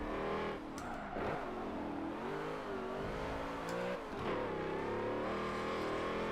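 An 800hp GMC Vandura van races in Forza 7, its engine revving loudly and continuously with pitch rising and falling through gear changes and corners, close and steady throughout.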